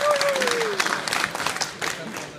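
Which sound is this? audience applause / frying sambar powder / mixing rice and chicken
audience applause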